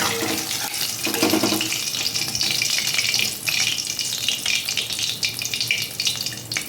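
Amudi fish fry in hot oil, giving a steady, fairly loud sizzle with a broad hiss and crackle that runs unbroken throughout and swells briefly near the start, with no voices.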